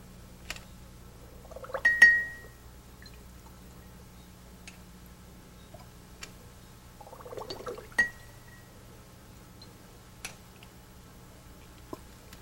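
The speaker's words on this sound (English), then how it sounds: "The easiest way to fill your tincture bottles, and I'd recommend that if you can, you get amber-colored tincture bottles to protect them, is with a glass" St. John's wort tincture is squeezed from a glass turkey baster into small amber glass tincture bottles, giving two soft liquid squirts with faint glass clinks and ticks in a quiet room with a low hum.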